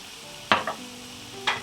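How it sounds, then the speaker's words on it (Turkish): Chicken with spices in a frying pan gets a few brief stirs, two short scraping strokes over a quiet sizzle, close up with no talking. "Ve karıştırıyoruz son olarak."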